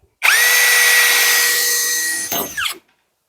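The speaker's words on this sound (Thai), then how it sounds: "เอาสว่าน เจาะน็อตนำก่อน" A power drill bores a pilot hole for a door lock during a door installation: one close, steady high whine lasting about two seconds, then a short rattling wind-down.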